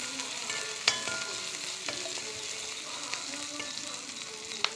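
Onions frying with salt in a pan give a steady, moderately loud sizzle that runs the whole time, with a few sharp stirring clicks and scrapes scattered through it and no voices.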